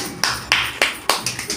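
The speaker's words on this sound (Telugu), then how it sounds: "క్లాప్స్ కొట్టండి" A group at a family kitty party claps in a quick, even rhythm, with about six crisp, close claps that grow slightly softer at the end.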